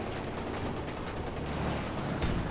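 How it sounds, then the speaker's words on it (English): Jump Pioneers firing their weapons in Company of Heroes 2, a steady crackle of small-arms shots with a busy battlefield rumble beneath, loud and unbroken. "Jump Pioneers firing away."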